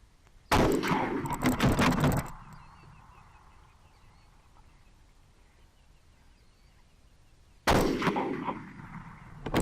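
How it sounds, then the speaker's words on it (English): A gun fires in two loud bursts, one at the start lasting about two seconds and another near the end, close and harsh, with a quieter stretch of background between them. "Look how loud that gun is, bro."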